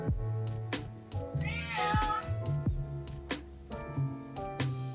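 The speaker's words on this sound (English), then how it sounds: "Don't mind my cat, she's extremely blind and deaf, so sometimes she just yells." An old, blind and deaf cat yowls loudly in long, wavering cries that rise and fall, close by, with plenty of background sounds and musical tones around it.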